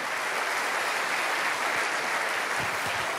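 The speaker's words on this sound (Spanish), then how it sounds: "Alguien tiene que aplaudir más que eso" Church congregation applauding, a dense steady wash of clapping that holds at an even level throughout, filling the space without any voices standing out.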